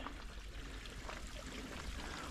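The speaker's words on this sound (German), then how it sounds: "Ein kleiner Bach." Small brook on a hiking trail near Heimbergfluh in Bern, flowing with a continuous soft trickling and burbling, fairly close and steady.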